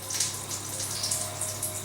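Tomato pasta sauce pours over stuffed eggplants in a home kitchen, a soft, steady wet trickle and gurgle running close by for about two seconds with no voices.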